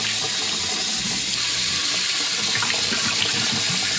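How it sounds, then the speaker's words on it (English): Water runs steadily from a tap into a sink to rinse out a beer bottle, a continuous close splashing gush with no talking. "Rinse it out."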